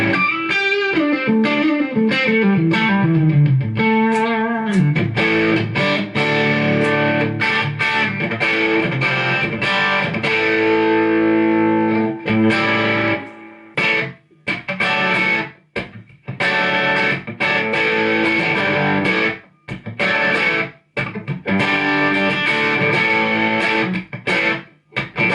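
Electric guitar played through a Line 6 DT50 amp in Class A/B mode with the drive turned all the way up, giving a loud, distorted tone with sustained chords and melodic runs, then choppy strummed bursts with short gaps.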